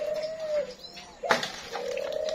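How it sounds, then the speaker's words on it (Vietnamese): A lone dove in its own cage coos in low, drawn-out calls, with a short rustling burst midway before the cooing resumes, close and fairly clear. "Bé này bé gù rồi, bé này một mình một chuồng đang gù."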